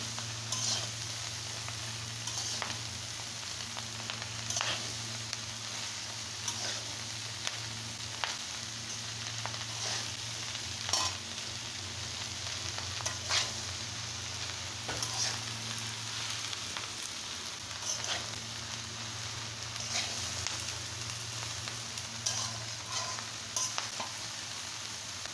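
Onion, potato and prawns fry quietly in a pan, a soft steady sizzle broken by regular scraping clicks of a spatula stirring through them, with a low hum underneath and no voices.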